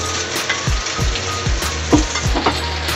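Kimchi stir-frying in a hot pan for a Korean stir-fried kimchi dish, a steady close sizzle broken by repeated rhythmic scrapes and knocks of a utensil stirring, with no voices.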